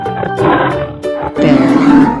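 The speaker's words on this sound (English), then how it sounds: "Lion." A lion roars in two loud, rough bursts at close range, with a short gap between them and no talking.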